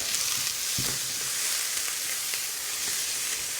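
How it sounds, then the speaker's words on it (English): Onions sizzle steadily in a hot pot, a bright constant hiss with a few soft clinks of stirring, close and fairly loud. "you can hear that really nice sizzle"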